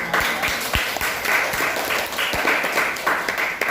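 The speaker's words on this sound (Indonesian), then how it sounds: "Kita tepuk tangan dulu buat" A roomful of people claps steadily, a dense wash of applause with a few sharper individual claps standing out, sustained throughout.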